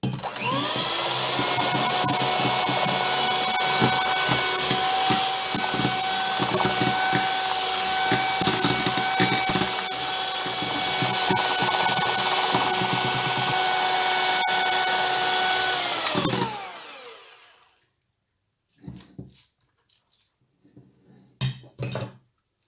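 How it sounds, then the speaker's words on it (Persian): Electric hand mixer beating eggs, sugar and water for a sponge cake batter, a loud continuous whir running steadily for about sixteen seconds before cutting off, followed by a few faint clinks. "باز با میکسر میزنیم"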